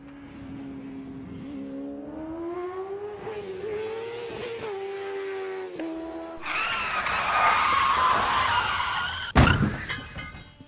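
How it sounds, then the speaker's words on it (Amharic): A motorcycle with failed brakes whines through rising and falling engine tones, then breaks into a loud, rough skid that ends in a sharp crash of impact near the finish, with no voices. "አንድ ሞተር ሳይክል ፍሬኑ በመበጠሱ ምክንያት ከአንድ ህንፃ ጋር ተጋጅቶ አደጋ መድረሱ ተዘገበ"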